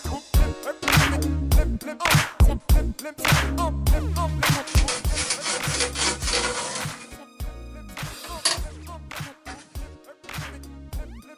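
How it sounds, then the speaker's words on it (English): Bandsaw slowly cutting through a thick wooden guitar body, a heavy-duty job for the saw, with loud clattering, knocking bursts and a rasping bite through the wood over a steady motor whine. "This is a pretty heavy duty job for this bandsaw, but I think it should manage if we take it slow."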